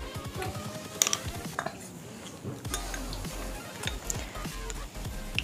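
Peanut face pack paste is ground and mixed in a bowl, with scraping, clinking and rhythmic stirring strokes close by, fairly quiet and with no talk.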